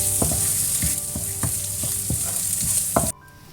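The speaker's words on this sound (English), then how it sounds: "Now I am adding a cumin seeds and onion. Saute and cook it for 2 minutes." Cumin seeds and onion sautéing in a pan for egg biryani, a steady sizzle under a rhythm of distinct spatula scrapes and taps, close and fairly loud, stopping abruptly near the end.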